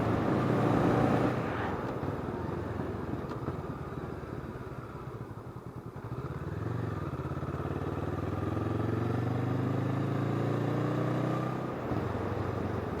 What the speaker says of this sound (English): Great time to be on a motorcycle.